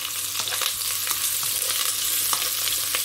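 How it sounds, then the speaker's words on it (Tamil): Chopped big onions with curry leaves fry in a pan, a steady loud sizzle broken by repeated scraping stirs of a spoon, close up with no voices. "அடுத்ததாக வெட்டி வைத்திருக்கிற பொம்பை வெங்காயத்தை சேர்த்துக்கொள்கிறேன்."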